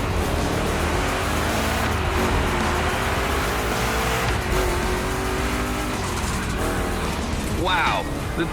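Two Chevy big-block cars race in The Crew Motorfest video game, their engines roaring loudly and continuously, with a rising engine note and a sharp burst of tire squeal near the end, under commentary.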